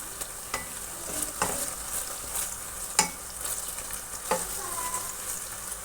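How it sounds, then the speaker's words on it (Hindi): Garlic, ginger and green chilli paste fries with onions in a pan for aloo tori, a steady close sizzle broken by several sharp scraping stirs of a spoon. "लहसुन अदरक को डाल के मैंने इसको अच्छे से भून लिया"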